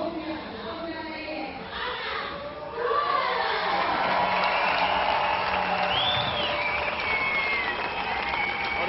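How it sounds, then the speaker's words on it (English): Crowd at a climbing world championship women's bouldering final in Arco, Italy cheering and applauding for the new world champion, a dense roar that swells louder partway through and holds, with high whoops over it. "Well, the crowd go wild."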